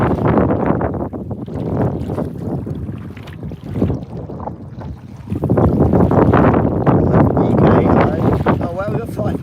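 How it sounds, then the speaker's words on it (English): Strong wind buffets the microphone outdoors during fishing in heavy, rumbling gusts, with a voice faintly audible beneath the roar. "so sorry if it gets a bit windy"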